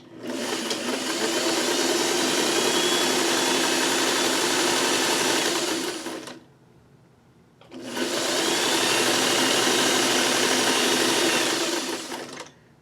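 A sewing machine stitches along fabric edges in two long, loud, continuous whirring runs close by, separated by a brief pause of near silence.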